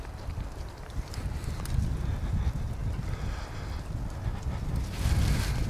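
Steady low rumbling wind buffeting a microphone outdoors by a railway footbridge in Jüterbog, Germany, continuous and moderately loud throughout, with a faint vehicle-like drone underneath.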